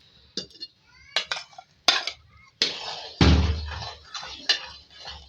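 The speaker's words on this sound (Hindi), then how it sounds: "इसको आप स्पून चलाते रहे मुस्तकिल।" Spoon stirring semolina halwa with dissolved sugar in a pan, giving scattered metallic scrapes and clinks at an irregular rhythm, close and fairly loud, with no talking.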